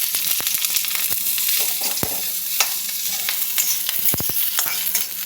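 Nigella seeds and green chilli sizzle steadily in hot oil in a pan, a constant bright hiss with a few scraping stirs of a spatula punctuating it, close and alone without talk.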